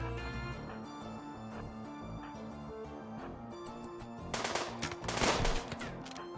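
Gunfire crackles in the video game RimWorld, a rapid stream of small shots over a background of game music, building to a louder burst of fire near the end.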